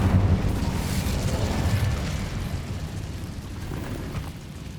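Incendio fire spell cast in the Hogwarts Legacy video game, a loud whooshing burst of flame with a low rumble that fades gradually over several seconds.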